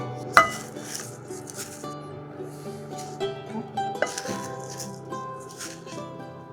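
Semai vermicelli being fried slowly with sugar in a pan, heard as a series of metal clinks and scrapes of a utensil against the pan, with quieter stirring between the knocks.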